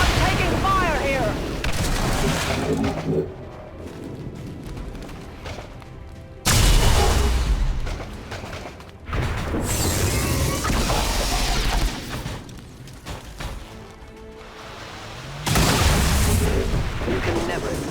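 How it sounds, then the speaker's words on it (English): Heavy gunfire and explosions in the video game XCOM 2: War of the Chosen, loud bursts of shots and booming blasts that cut in abruptly in several waves, separated by quieter stretches with distant rumbling. "I'm taking fire here."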